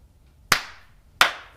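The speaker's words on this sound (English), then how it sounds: "Should we do a clap?" Two sharp hand claps about 0.7 seconds apart, each ringing briefly in an echoey room, used to slate a podcast recording.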